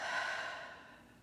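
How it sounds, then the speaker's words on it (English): A single soft, airy exhale through the mouth during a guided deep-breathing exercise, fading steadily over about a second, quiet and close. "Exhaling through the mouth."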